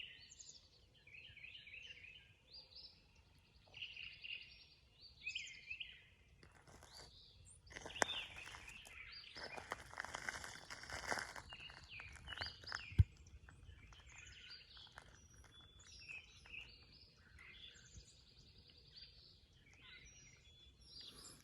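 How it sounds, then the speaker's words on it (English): Birds chirp and tweet in repeated short phrases outdoors, fairly faint, with occasional rustling and a gust of wind noise in the middle. "and I can hear the birds"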